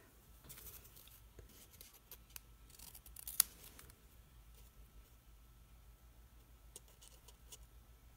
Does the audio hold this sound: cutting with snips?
yes